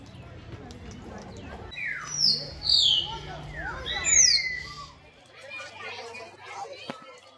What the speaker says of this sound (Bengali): এখন আমরা চলে এসেছি অ্যামাজন গ্রিন প্যারেটসের খাঁচার সামনে।